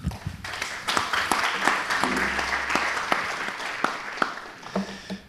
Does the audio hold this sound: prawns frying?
no